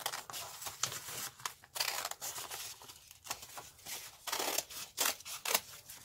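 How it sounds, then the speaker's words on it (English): Scissors snip through folded newspaper in a series of close, crisp cuts with papery rustling and crinkling between them. "Now you see this is still folded, so we'll cut."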